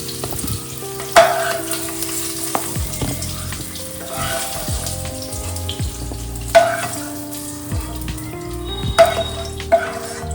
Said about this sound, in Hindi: थोड़ी देर आलू को फ्राई करने के बाद इसे अब निकाल लेते हैं